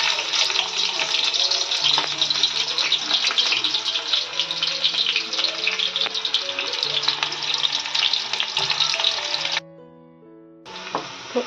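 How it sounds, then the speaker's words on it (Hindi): Chopped onions sizzle in hot oil, a loud, steady crackling hiss that runs without pause, dips briefly near the end, then resumes. "तेल हो गया है गरम, और इसमें सबसे पहले मैं डालूंगी प्याज"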